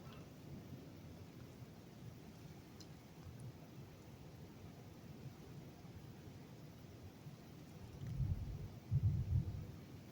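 Heavy rain falls at night during a hurricane, a steady, muted hiss throughout, then a deep rumble of thunder rolls in near the end and swells briefly before fading.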